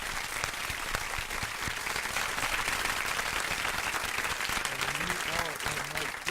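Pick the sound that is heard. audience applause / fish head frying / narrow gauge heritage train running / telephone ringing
audience applause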